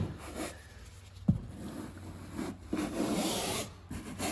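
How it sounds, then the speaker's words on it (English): A hard bristle brush scrubs car upholstery fabric gently during interior detailing, a steady close rasping rub with a few brief knocks and pauses, and no talking. "Just scrub the fabric."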